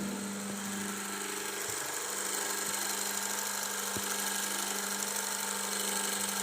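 A single-phase induction motor runs under a lab load test, giving a steady, continuous hum and whine with mechanical vibration, a few faint knocks now and then, no talk over it.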